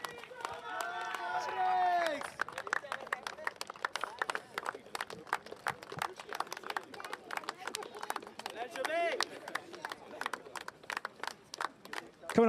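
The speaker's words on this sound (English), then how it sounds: "Give him a round of applause, ladies and gentlemen." A crowd at the finale of a New York Cowboys vs Maryland Mavericks competition claps for the losing captain, scattered sharp claps continuing steadily over a voice that talks briefly at the start.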